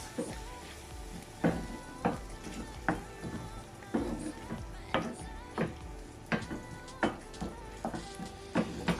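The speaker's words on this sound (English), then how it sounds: "Just going to give that a mix." Red pepper pesto pasta sauce with garlic is stirred in a pan, a spoon clacking and scraping against the metal in a regular rhythm of sharp knocks over a soft sizzle.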